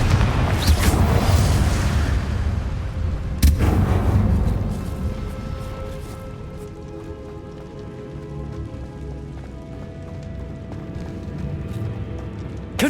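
Blasting-spell explosions boom in the Hogwarts Legacy video game: heavy thuds near the start and a sharp blast around the middle, then a rumbling, crackling tail that fades beneath steady ambience.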